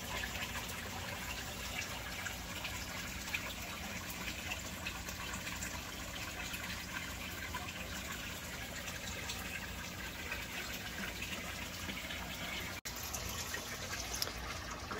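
Water trickles and flows steadily through an aquaponics U-siphon, a continuous close gurgling wash with little variation and no speech.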